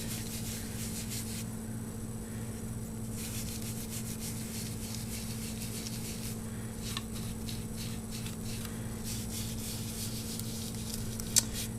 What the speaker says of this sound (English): And then I'm going to very lightly, in a circular motion, just rub over these leaves.